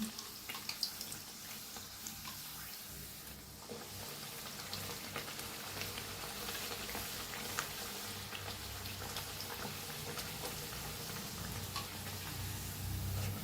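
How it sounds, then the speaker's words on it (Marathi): Puri deep frying in hot oil, made from banana and jaggery dough: a steady, moderately loud bubbling hiss that runs unbroken through the whole stretch, with no voices. "छान तळून घ्यायचं दोन्ही साईडला."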